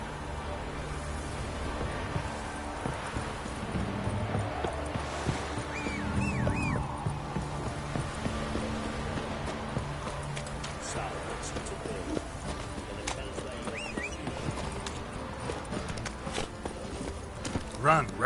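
Clip-clop of Roach the horse's hooves running in the Witcher video game, a steady rhythmic patter held under game music and dialogue throughout.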